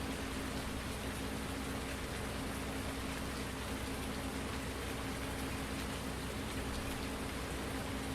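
Steady rain falls in the farming video game Farming Simulator 19, a faint, even hiss of drops with a low mechanical hum underneath.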